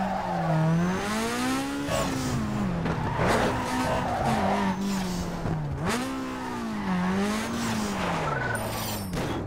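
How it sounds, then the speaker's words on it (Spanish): An Audi in the Need for Speed Underground 2 video game: a loud engine revving up and dropping back through repeated gear shifts, with tire squeal and skidding running continuously throughout. "¿Cómo suena este Audi?"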